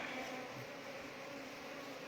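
Bees buzzing in a steady, dense drone around an opened bee nest, close and continuous throughout with no voices.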